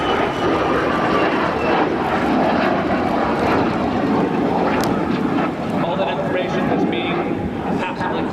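A Lockheed U-2S Dragon Lady high-altitude reconnaissance aircraft at an air show, with a loud, steady, broadband engine roar sustained throughout while a voice talks over it.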